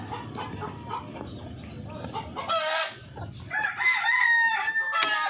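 Native chickens on a farm: steady clucking from a flock, with a rooster crowing loudly and clearly near the end, close by and with no talking.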